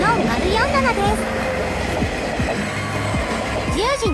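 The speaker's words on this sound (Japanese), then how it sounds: "神社の境内を走る九州観光列車でした。" A sightseeing train, the Kyushu tourist train Seven Stars, rumbles along the rails through a shrine precinct with rhythmic low clunks of wheels over joints, while people talk over it nearby.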